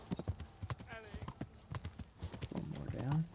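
Horse hoofbeats clip-clop in a medieval video game set during the burning of Skalitz, a steady galloping rhythm with a whinny near the end, while someone talks over the action.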